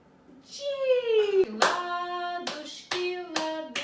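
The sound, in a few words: hands clapping in toddler clapping game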